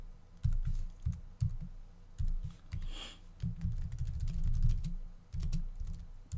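Code being typed on a computer keyboard in the Eclipse editor, bursts of quick, close key clicks with short pauses between runs, steady and dry with no voices.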